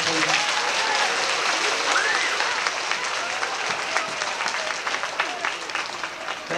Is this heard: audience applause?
yes